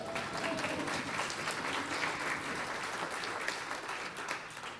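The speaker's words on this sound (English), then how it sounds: "So, clap for that." An audience at a report update event claps in celebration, a fairly faint, even spread of applause that carries on for several seconds.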